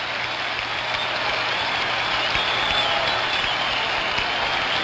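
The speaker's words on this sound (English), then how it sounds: "Crowd comes to life" A packed ballpark crowd at the 1975 World Series Game 6 between the Reds and Red Sox roars continuously after a line-drive base hit, a broad distant wash of cheering with a faint voice underneath.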